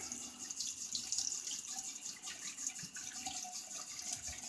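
Tap water runs in a steady, full hiss from a faucet during a wet shave rinse, continuous and fairly close with no talking.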